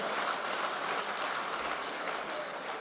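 An audience at an Urdu poetry mushaira in Qatar claps steadily, a dense wash of applause at moderate level with no voices over it.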